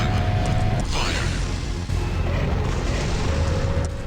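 A rail cannon in the game Biohazard 3 fires, a deep booming blast with a rumbling, mechanical tail over a steady background drone, loud and close, with a brief dip before the noise settles.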